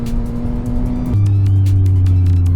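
A vehicle engine on a Marilaque mountain road in forest, a steady tone that shifts abruptly lower and louder midway as it passes close, holding a strong drone to the end; no talk.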